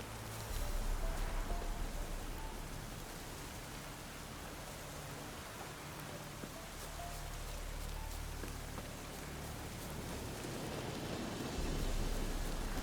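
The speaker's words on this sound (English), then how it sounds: "And the rain splashes off the shirtless Witcher." Heavy rain falls on a quiet night in The Witcher 3: Wild Hunt, a dense, steady hiss of drops splashing on surfaces that continues without pause.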